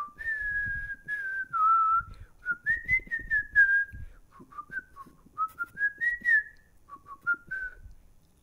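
A person whistles a melodic tune alone, in a run of clear sustained and gliding phrases with brief pauses between them, close and moderately loud.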